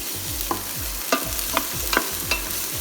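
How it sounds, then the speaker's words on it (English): Ginger sautéing in a pan for chicken and sweet corn soup, giving a low steady sizzle with a few regular scrapes of the spoon about twice a second, close and clear, with no talking. "And so we're going to saute this maybe for a minute or so"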